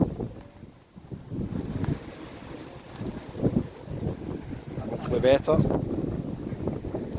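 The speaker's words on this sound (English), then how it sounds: "It's very windy." Gusty wind on Fuengirola beach buffets the microphone in a rough, rumbling roar that swells and fades, with someone talking briefly over it.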